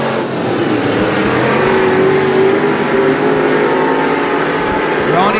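Race cars roaring around a dirt track during the first lap at the Texas Grand, a loud continuous engine drone with a rising and falling whine as cars run in single file, faint commentary partly under the noise.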